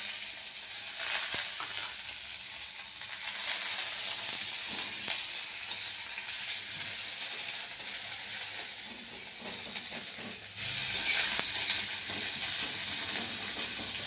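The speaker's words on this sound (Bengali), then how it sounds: "এবার এই তেলে আমি দিয়েছি কুচিয়ে রাখা সামান্য পেঁয়াজ" Chopped onion sizzles in hot oil in a pan for potato curry (aloo torkari), a steady frying hiss with occasional light stirring clinks, fairly close.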